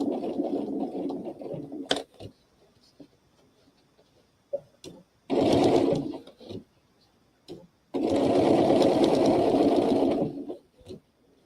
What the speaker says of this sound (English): Did another row of stitches along here